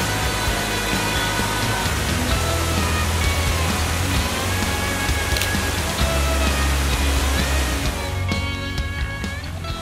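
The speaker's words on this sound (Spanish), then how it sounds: "Esta agua que baja de estas cataratas es filtrada por tubos de lava, roca volcánica, y es súper súper clara." Water pours steadily down a waterfall in Oregon, a constant broadband rush heard close and loud without pause.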